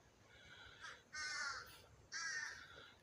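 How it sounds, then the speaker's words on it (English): Crows caw from trees on the outskirts, several harsh calls in two clear bursts with a fainter one before, moderately distant against quiet outdoor air. "See them all in the trees? The crows are on the outskirts."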